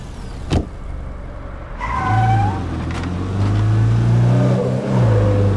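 A car engine hums and revs as a vehicle pulls away and drives in the zombie-survival game State of Decay 2, steady and close, with a brief sharp knock near the start and no speech.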